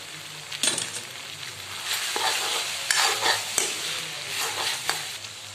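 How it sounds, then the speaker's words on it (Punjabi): A spoon stirs salt and spices into masala okra in a hot pan, producing soft, irregular scraping strokes over a faint sizzle, close by and with no talking. "ਟੇਸਟ ਅਨੁਸਾਰ ਪਾ ਦਾਂਗੇ ਜੀ ਆਪਾਂ ਇਸ ਵਿੱਚ ਨਮਕ ਚੰਗੀ ਤਰ੍ਹਾਂ ਮਿਕਸ ਕਰ ਦੇਣਾ"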